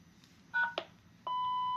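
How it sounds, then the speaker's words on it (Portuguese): A CIP 850 electronic intercom sounds short electronic beeps confirming its programming: a pair of quick tones, then a longer steady beep, close and clear in a quiet room. "ele deu os bips confirmando a programação"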